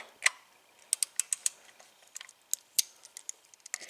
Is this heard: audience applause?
no